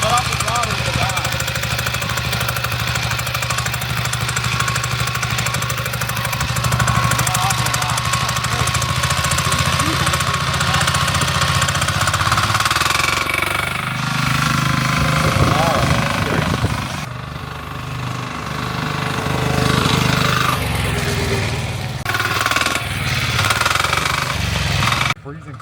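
A diesel engine on an off-road trike runs continuously and loud, a rough, chugging idle and throttle drone in the cold outdoors, with voices now and then over it.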